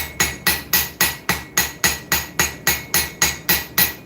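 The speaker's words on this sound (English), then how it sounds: "Still using my little bitty old auto body hammer." A small auto body hammer strikes steel while shaping a knife tang, ringing out in a steady run of about fourteen evenly spaced, sharp, close blows, each decaying quickly before the next.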